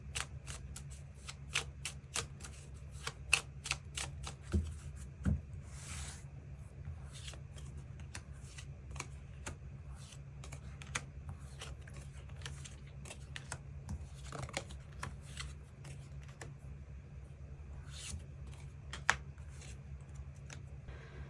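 Tarot cards are shuffled close up for a weekly reading, a quiet run of crisp flicks and riffles that comes in irregular bursts with no voices.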